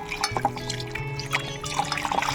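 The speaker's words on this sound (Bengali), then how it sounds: "সুন্দর করে মাছটা ধুয়ে নিই এখন" Fish being rinsed by hand in water, with close splashing, dripping and trickling in short uneven bursts and a faint background hum.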